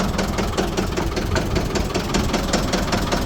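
A Ford 675D 4x4 backhoe loader that has sat unused for a long time runs close by on a jump box. Its diesel engine makes a steady, rough, knocking idle throughout.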